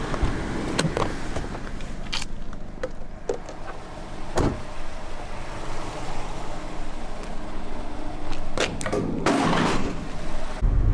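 A car door is opened and shut several times at close range while someone sets off on a road trip, giving sharp slams and thumps over a steady background rumble.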